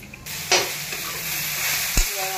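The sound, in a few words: spice tempering sizzling in pan for sabudana khichdi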